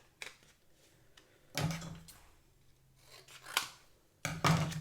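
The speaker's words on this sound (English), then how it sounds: "I'm going to cut this outline because it's so tight around there." Scissors cutting around a paper outline at a craft table, giving several separate crisp snipping bursts with short pauses between them, close and fairly quiet, with no talking.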